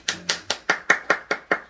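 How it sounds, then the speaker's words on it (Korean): Applause at a Korean church Sunday service after a person is appointed as an evangelist: eight evenly spaced, sharp claps, loud and close, with no talk over them. "박수."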